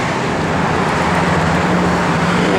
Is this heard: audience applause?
no